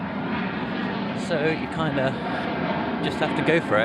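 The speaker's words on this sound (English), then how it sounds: "Sorry about the plane noise." A low roar of a jet airliner passing overhead near Heathrow Airport rumbles under someone talking outdoors, steady and fairly loud throughout.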